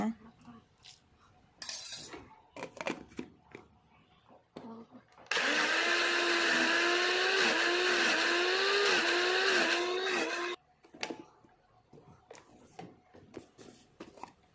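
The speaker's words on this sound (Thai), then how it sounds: "เดี๋ยวเราก็ จะนำใส่ โถปั่นเลยค่ะ เราก็จะปั่นให้ละเอียดเลยนะคะ" Boiled pumpkin is pureed for pumpkin juice in a blender that whirs loudly for about five seconds, its motor pitch wavering as the mixture churns. Quieter kitchen clinks and handling sounds come before and after.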